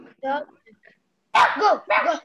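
A person imitates a dog barking during a playful English lesson game, a couple of short voiced bark-like bursts following soft earlier talk, fairly close and loud.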